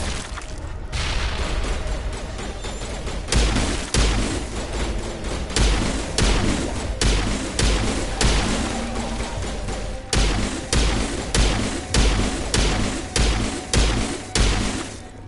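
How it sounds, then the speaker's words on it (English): Explosive grenades detonating in the Mass Effect video game, a quick series of booming thuds and crashes repeating every second or so over about fifteen seconds against dense, loud game noise. "Let's go ahead and get my explosive grenades out."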